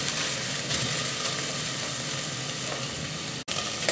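Meat for azu, a Tatar stew, sizzles and fries in a cauldron with a dense, steady crackle and hiss throughout, close and fairly loud, broken only by a brief dip near the end.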